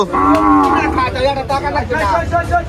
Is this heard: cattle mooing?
yes